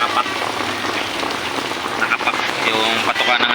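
Heavy rain pours steadily onto surfaces in a dense, loud hiss that never lets up, while a person speaks over it.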